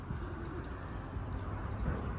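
Pigeons in a coop give low, soft cooing. The calls run continuously under a dense, muffled background rumble, fairly close.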